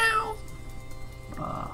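A cartoon cat in the court-management game Sort the Court gives a bright meow at the start, then a softer, lower mew near the end, heard alone with no talk.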